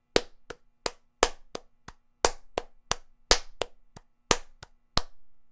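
Hands clap out a three-four rhythm, sharp isolated claps in groups with short gaps between, close and clear in a quiet room.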